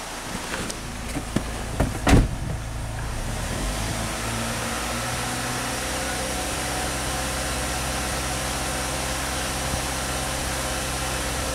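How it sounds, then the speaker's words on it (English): A car engine runs during an air-conditioning recharge with the compressor working, a steady close idle hum that holds for over ten seconds after a few brief knocks and clicks near the start. "We can rev up the engine,"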